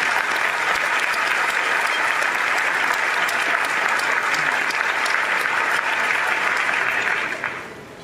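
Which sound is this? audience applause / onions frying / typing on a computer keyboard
audience applause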